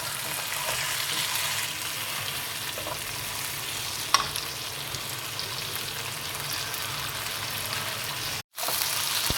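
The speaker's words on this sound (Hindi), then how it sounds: "ये मसाले अभी डाल के इसको गोश्त को अच्छी तरह भून लेंगे।" Meat sizzling steadily in a pan with curry leaves, cumin, black pepper and spices for chicken biryani, a dense continuous fry with one brief sharp crackle and a short silent gap near the end.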